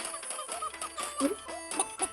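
Chickens cluck repeatedly in short, bright bursts over a steady background hum, with a busy, synthetic game-like quality, from a Chicken Gun clone video game.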